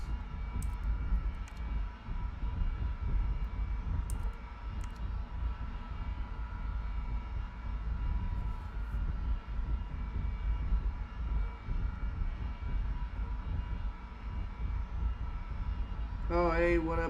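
A fighter-bomber's engine drones steadily in a flight simulator game, a continuous close engine roar with faint tones over it and a brief burst of other sound near the end.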